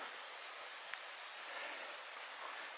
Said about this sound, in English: normally people wouldn't like the rain, but I know I am thoroughly enjoying this right now